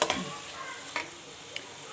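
Cabbage, potato and peas stir-fry on a high flame, a steady close sizzle broken by a few sharp spatula scrapes against the pan, with no talking.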